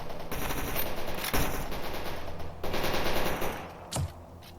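Automatic gunfire rattles in bursts in the video game Stalker Anomaly, dense rapid volleys with sharp cracks near the start and end and brief pauses between, loud and close with no talk.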